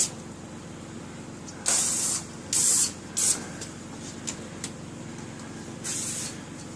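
A pest control sprayer hisses in several short, loud bursts while treating around the doorways and windows of a house, with quieter gaps between sprays and a low outdoor background.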